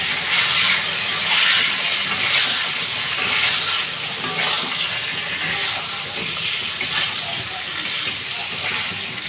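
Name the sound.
eggplant and potato frying in hot oil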